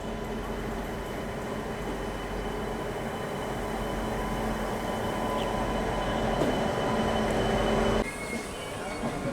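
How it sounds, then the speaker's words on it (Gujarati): Motihari Express pulls out of Rajkot Junction, a steady heavy rumble of railcars with a faint wheel squeal, growing slightly louder before an abrupt shift near the end. "આપણી મોતિહારી એક્સપ્રેસને અત્યારે સિગ્નલ મળી ગયો છે અને આપણી ટ્રેન હાલ ડિપાર્ટ થઈ રહી છે રાજકોટ રેલવે સ્ટેશન પરથી"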